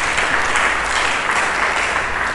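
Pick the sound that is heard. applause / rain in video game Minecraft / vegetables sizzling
applause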